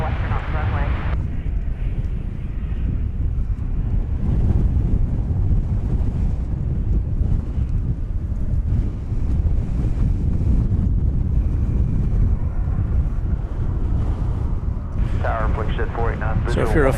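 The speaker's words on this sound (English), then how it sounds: "an Airbus A319 going to Eagle, Colorado" A ten-year-old Airbus A319 at DFW Airport, bound for Eagle, Colorado, rolls into view with a continuous broad jet roar mixed with gusting wind buffeting the microphone throughout, and a brief brighter whine near the end.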